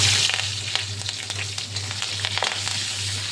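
Onion and curry leaves fry for a fish curry, a steady loud sizzle with crackling pops and a low hum underneath, no talking.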